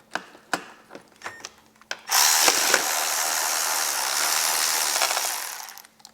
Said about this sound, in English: I've got a Milwaukee battery ratchet just to kind of save some time, and an 11mm socket